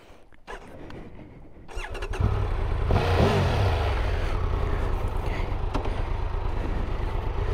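A 2022 Triumph Tiger 1200 Rally Explorer with a T-plane crank engine starts up and settles into a close, loud, steady running note, with a rise in revs near the start.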